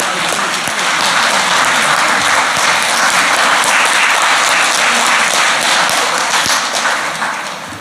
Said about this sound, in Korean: 등단하실 때 우리가 전부 박수로 환영해 주시기 바랍니다